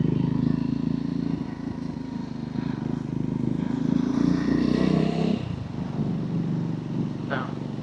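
A Triumph Scrambler 400X motorcycle rides through London traffic with a steady droning engine and broad wind rush that dips briefly as the revs ease, heard from on the bike at moderate loudness.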